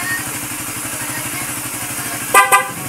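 Horn on a Raider 150 Fi motorcycle gives two short, close, loud beeps near the end over a steady idling engine rumble.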